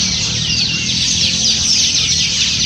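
A dense flock of birds gathers at dusk in a park in Peru, their calls and chirps blending into a continuous bright chatter that fills the whole stretch without pause.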